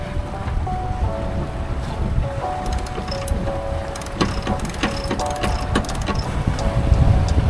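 Strong, gusty wind blows across a sailboat under way on Lake Superior. There is a constant broad rush with rumbling buffets, and rigging or winch clicks and rattles come in bursts, with no talking.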